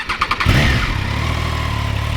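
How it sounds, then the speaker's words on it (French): A 2023 Triumph Trident three-cylinder motorcycle engine cranks briefly, then catches and settles into a steady, throbbing idle that stays loud and close throughout. "Finalement, nous allons démarrer le moteur."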